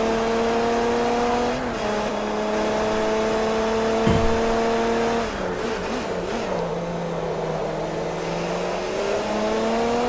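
An LMP race car engine in Forza Motorsport 3 drones loud and steady, its pitch rising through the gears with brief dips at each shift and one sharp knock near the middle.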